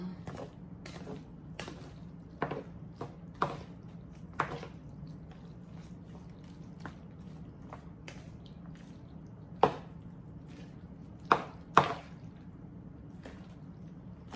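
Cheddar powder is stirred into cooked macaroni for a baked Southern mac and cheese, producing quiet, wet squelching and clicking as a utensil works through the noodles in irregular strokes over a low hum.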